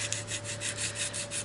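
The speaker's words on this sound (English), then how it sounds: "I'm going to be using my fine Squadron sanding stick to start." A fine Squadron sanding stick rubs with light pressure over dried putty on an HO scale model B&O caboose, a soft rhythmic scratching of repeated short strokes close by over a faint steady hum.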